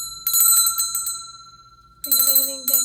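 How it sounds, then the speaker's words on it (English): Small hand bell rung in two bright bursts of rapid jingling, close and loud, separated by a brief lull as the ringing decays. "Gonna ring this little bell."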